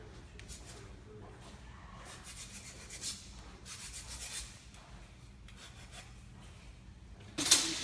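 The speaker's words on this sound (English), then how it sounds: "We'll file this down." A truck part is filed down in a workshop, with faint, uneven bursts of rasping strokes against a low background hum.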